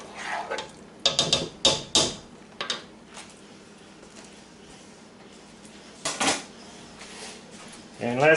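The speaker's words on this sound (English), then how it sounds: "Stir that in." Spoon clinks and scrapes in a pot as thyme, oregano, salt and pepper are stirred into a fish stew, a few bursts of clatter separated by quieter gaps, close by.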